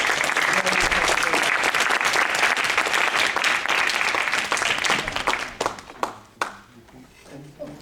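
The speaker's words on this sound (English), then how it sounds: "let's give Steve another round of applause for a very" Audience applause after a public university lecture by Prof. Stephen Ziliak at UMKC: dense, loud clapping fills the room for about five seconds, then thins to a few scattered claps that fade out.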